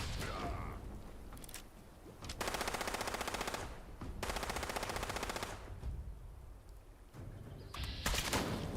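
Rapid automatic gunfire sounds in Fallout 76, with two long sustained bursts and a few shorter ones among softer background game sounds, close and fairly loud.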